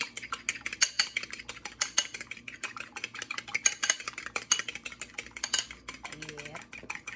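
A spoon beats an egg into a ground turkey and bread mixture in a bowl, giving a quick, irregular run of clinking, scraping strokes. A voice speaks briefly near the end.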